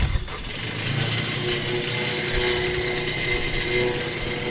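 The engine of a 2016 KM T2 asphalt recycler with 450 hours starts up and settles into a steady, loud mechanical rumble and clatter close by, with no talking.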